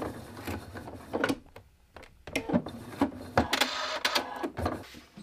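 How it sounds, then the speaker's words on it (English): A sewing machine stitches binding onto a quilt with faux piping, giving uneven bursts of close mechanical clatter and thumps with short pauses between runs. "Just keep sewing at 1/4 inch until your needle gets even with this stitch line on the next side"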